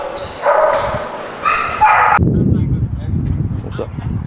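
A dog at an animal control facility gives several loud, close barks and yips with a whimpering edge, mixed with background noise and nearby human voices.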